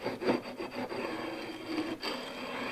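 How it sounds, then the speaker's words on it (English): Light scraping of brittle old linseed oil paint off a hundred-year-old Norwegian wooden window, a soft steady rasping rub with faint strokes, close and quiet, no talking. "Just lightly scrape."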